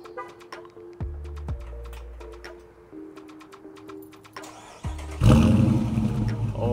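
A 2023 Dodge Charger R/T Hemi engine cranks briefly, then catches and roars to life with a loud burst, settling into a deep, rumbling idle nearby.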